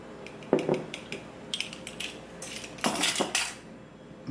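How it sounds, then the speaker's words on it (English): Utensil scraping and clinking against a bowl while garlic salt and ginger powder are mixed into cauliflower for a vegan Manchurian dish, irregular close clatters and scrapes, no talking. "mix that all in."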